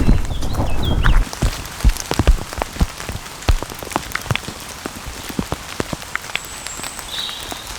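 Rain falls in woodland at a wild camping spot, a steady patter of close raindrops dripping irregularly onto leaves and surfaces, with a louder rush at the start before settling into scattered drips.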